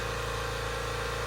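An air compressor runs in a garage during work on a Porsche 911 Turbo S, giving a steady, unbroken mechanical drone with a low hum throughout and no talking.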